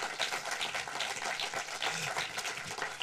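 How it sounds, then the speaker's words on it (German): An audience in Frankfurt claps continuously for film director Christian Alvart as he is welcomed on stage, a dense, even wash of applause with no pause. "Großen Applaus, Christian Albert"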